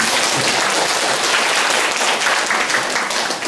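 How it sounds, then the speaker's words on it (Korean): Audience applause at the close of a lecture on understanding and responding to problem behaviour, a dense steady wash of many hands clapping at close range, loud and even throughout with no talk over it. "우리 다시 한번 박수 드립니다"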